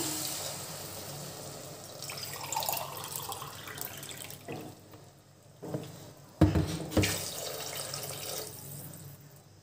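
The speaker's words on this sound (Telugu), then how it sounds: "ఇప్పుడు ఇందులో నాలుగు గ్లాసులు వాటర్ యాడ్ చేసుకుంటున్నాను" Water pours and splashes into a metal cooking pot in a steady, fairly quiet stream while making tomato rice, with a couple of brief clunks near the end.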